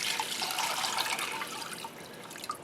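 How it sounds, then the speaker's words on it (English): Tap water pours in a steady, gurgling stream into a large pot over about three pounds of raw chicken for soup, a close, continuous splashing trickle. "Cover your chicken with water."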